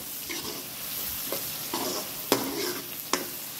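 Onions with cumin, chicken masala and Kashmiri red chilli mix sizzle in a pan for a chicken and taro-leaf curry, stirred with soft scraping strokes and a couple of sharp clinks over a steady low fry.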